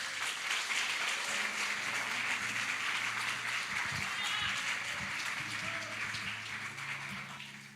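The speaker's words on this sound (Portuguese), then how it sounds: "Será que você pode aplaudir a Jesus" A church congregation applauds in praise at a Portuguese-language service, a steady wash of many hands clapping together that holds at an even level and thins slightly toward the end, with no voices over it.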